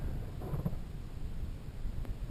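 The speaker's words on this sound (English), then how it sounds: "that was like an 80-mile-an-hour gust there" A strong gust of wind roars across a stranded climber's position on a mountain, a loud, continuous buffeting rumble that swells and presses against the microphone with no voices.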